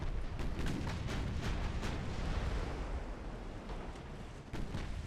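Naval gunfire and shell hits in Ultimate Admiral Dreadnoughts during a convoy-raiding battle, a dense, continuous roar of overlapping booms and blasts with rumbling low end, loud and unbroken throughout.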